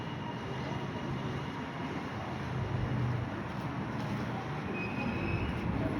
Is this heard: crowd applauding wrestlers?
no